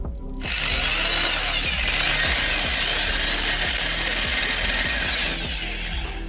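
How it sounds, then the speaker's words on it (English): A power drill fitted with taped-on sandpaper whirs steadily and loudly while sanding a junkyard car wheel rim, grinding in a harsh, continuous rasp for several seconds. "So, it's a drill, a lot of scotch tape, and sandpaper."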